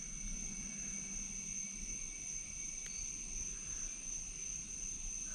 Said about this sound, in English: That's all you hear is bugs chirping. Frogs or whatever they are.